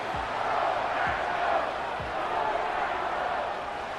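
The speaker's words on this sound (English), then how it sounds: "this crowd trying to force a false start here" Stadium crowd roar in a Madden 25 simulated NFL game between the Green Bay Packers and Chicago Bears, a steady broad wash of noise holding at a constant level with faint low thumps underneath.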